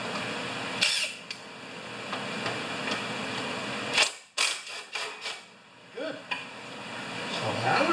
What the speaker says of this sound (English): and a 3/8 socket thing. We'll undo this bolt.